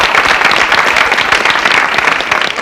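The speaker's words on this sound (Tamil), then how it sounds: "மீண்டும் ஒரு முறை உங்களுக்காக ஒரு நல்ல கைத்தட்டல் கொடுத்துடலாம்" Dense, steady applause from an audience at a children's speech competition, sustained and loud throughout with no pauses.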